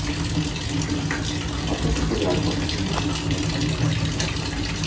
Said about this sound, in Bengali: এই রকমই সরু জলের ফোর্স।